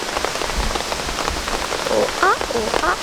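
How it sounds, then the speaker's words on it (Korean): Heavy rain pours on a small tent during a downpour while solo camping, a dense, close patter of drops drumming continuously on the fabric, with faint voice sounds mixed in. "어제보다 비가 더 많이 내려요. 빗소리가 들리는 건 좋은데 너무 크게 들려."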